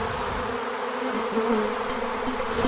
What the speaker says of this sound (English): the bees started coming out of the hive very,